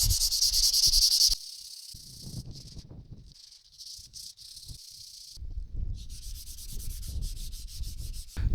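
Car paint being hand-sanded with 240 grit sandpaper gives close, rhythmic scratchy rubbing strokes, with a brief steady high hiss at the start and again toward the end.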